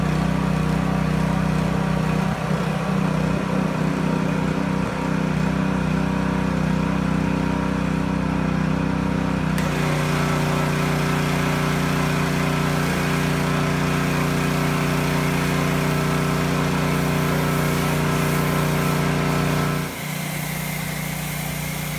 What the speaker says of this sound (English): And now a 3200 PSI gas-powered pressure washer.